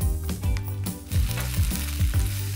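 Food sizzling in olive oil in a frying pan, a steady crackling fry with soft clinks and stirring knocks from the pan throughout, close and moderately loud, with no talking.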